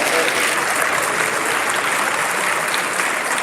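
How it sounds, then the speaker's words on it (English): A large audience at a Model United Nations closing ceremony applauds in a dense, even roar of clapping that holds loud and unbroken from start to finish. "Give a round of applause, yeah."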